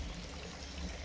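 White Spring water at Glastonbury pours steadily from a pipe into a water feature, giving a continuous, close splashing wash with no break over the whole stretch.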